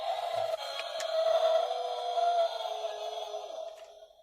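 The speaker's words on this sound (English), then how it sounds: "A button here on the underside of the dinosaur, which allows some sounds." A bootleg Mattel Jurassic World Giganotosaurus toy figure plays a sound effect from its underside button: a sustained, buzzy electronic tone that swells and fades over about four seconds. It is heard alone, close and moderately loud.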